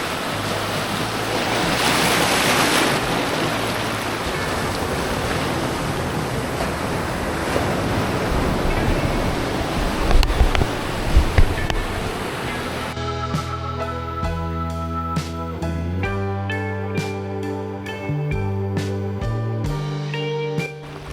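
Sea waves surge and wash loudly against the coral shore of Saint Martin island, a continuous roaring churn with gusty wind noise, which gives way to music partway through.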